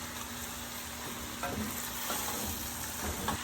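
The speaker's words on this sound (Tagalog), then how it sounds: "Sigisang maigi po yung mga yan." Beef cubes and onions with garlic sauté in a pan for Filipino kare kare, giving a steady, close sizzle with occasional stirring scrapes and knocks and no talking.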